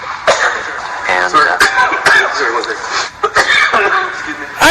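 Repeated coughing in a political ad, several short harsh bursts mixed with throat clearing and chuckles, close and loud under ongoing talk.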